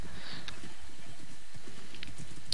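Horse hooves clip-clop in a French-language multiplayer game on a lagging server, a light patter of steps running through the short stretch with a couple of brighter clicks above.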